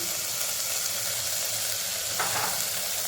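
Asafoetida, turmeric and spice masala frying in a pressure cooker, a steady close sizzle with a brief louder crackle as more spice hits the hot oil.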